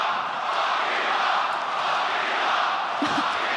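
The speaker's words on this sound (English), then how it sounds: "Are they cheering what I think they are?" A UFC fight crowd cheering and roaring, a broad, sustained wash of many voices that stays loud and steady throughout and rises briefly near the end.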